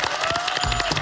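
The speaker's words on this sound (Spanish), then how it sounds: "Un aplauso grande." A brief burst of dense studio audience applause on a Chilean television business pitch show, loud and filling the whole moment, with a steady tone running underneath.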